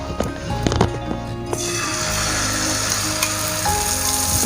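Omelette mixture for a naan omelette fries in a pan over a medium flame. A few utensil clatters come first, then a loud, steady sizzle takes over.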